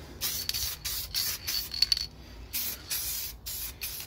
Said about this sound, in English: I've got the electric sander, doing this by hand has been a nightmare